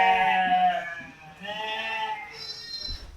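Goats bleat loudly and continuously at a goat farm holding about 1,500 animals of various sizes, overlapping voices carrying clear harmonic cries close by, with a fresh higher-pitched bleat near the end.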